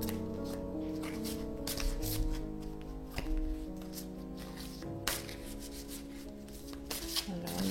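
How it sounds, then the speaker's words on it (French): Oracle cards being shuffled and drawn by hand, a soft papery riffling and rubbing that runs steadily under a sustained musical backdrop, with a few sharper slaps where cards land. "Donc je vais tirer une carte."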